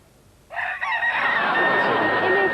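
A rooster crows loudly and close by, one long drawn-out call that begins abruptly after a brief quiet moment and holds to the end.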